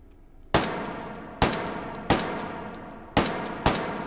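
Five loud, sharp gunshots from an early automatic handgun with a toggle lock, fired singly at uneven intervals in the H3VR virtual reality shooting game, each with a short decaying tail.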